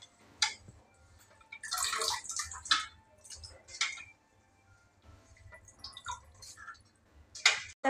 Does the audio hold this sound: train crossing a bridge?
no